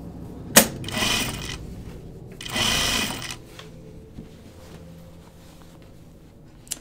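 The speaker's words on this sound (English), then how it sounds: "a home machine may be a little bit grouchier with you if you're going to do something thick" A home sewing machine stitches through thick stiffener in two short, loud runs of about a second each, its motor whirring steadily, with quieter handling noise in between.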